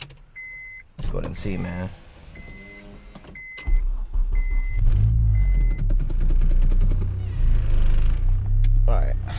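A 2002 Acura RSX with a turbo build starts up with a short cranking whir, then settles into a low, steady idle with a faint rumble, while someone talks briefly over chimes and beeps from inside the car.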